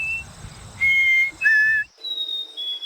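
A person whistles an imitation of a chickadee's two-note song, a higher pitch followed by a lower one, repeated several times in clear, close tones.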